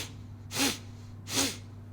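A person imitates a sniffing vocal tic of the kind seen in Tourette disorder: two short, sharp nasal sniffs about a second apart, close and clear against a quiet background.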